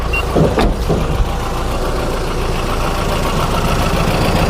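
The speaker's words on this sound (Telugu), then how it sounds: "ఇంజన్ కూడా స్టార్ట్ చేసి చూపిస్తాను చూడండి" Mahindra Bolero Pickup Maxx 1.7 diesel engine starts with a brief crank and settles into a steady, loud close idle.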